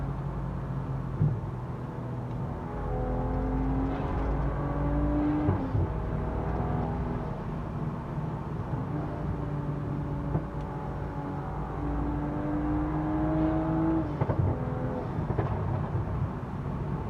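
A modified BMW M135 hatchback with an upgraded intake, its engine rising in two long revving sweeps with a whooshing intake roar and a low rumble between the pulls.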